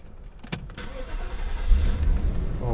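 A 1991 Mercedes W124 500E starts up: a couple of sharp clicks come first, then a deep engine rumble builds close by and settles into a steady idle.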